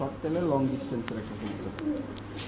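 A short-tailed long-distance racing pigeon coos in low, soft, rolling notes nearby while someone talks over it.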